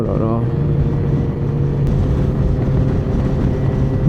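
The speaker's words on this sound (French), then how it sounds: "une des raisons c'est les retours et le bruit, genre tout ce qui est en rapport avec l'échappement" A vehicle's exhaust roars steadily and loudly close by, a sustained low engine drone with a few brief pops near the start.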